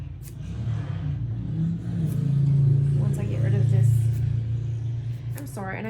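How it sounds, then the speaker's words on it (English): Lawnmower running outside during a mini album craft session, with traffic passing nearby: a steady mid-pitched motor drone that swells and fades as vehicles go by, while someone talks over it. "I'm sure you can hear the lawnmower going"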